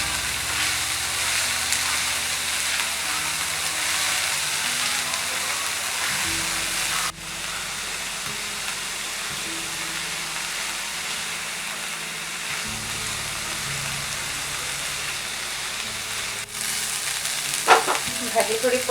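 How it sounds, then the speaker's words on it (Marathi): Vegetables for tacos sautéing in a pan, kept slightly crunchy: a dense, even sizzle running throughout, with low stirring rumbles and a few clinks of a utensil near the end. "या भाज्या आपल्याला एकदम सॉफ्ट करायच्या नाही आहेत, थोड्या क्रंचीच ठेवायच्या।"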